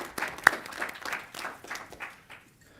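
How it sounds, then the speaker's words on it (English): Brief, thin applause at a school board of education meeting, a handful of scattered claps in a room that taper off within a few seconds. "can we just give a quick round of applause to our board?"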